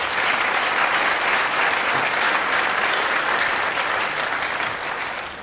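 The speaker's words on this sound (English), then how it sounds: "Let's give them another round of applause." An audience at the preview opening of the Buffalo AKG Art Museum gives a sustained round of applause, loud dense clapping that holds steady for five seconds and eases slightly at the end.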